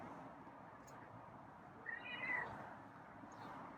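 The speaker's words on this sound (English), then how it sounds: "Another meow." A feral cat's meow rises briefly out of steady background noise midway through, a short tonal cry of moderate loudness.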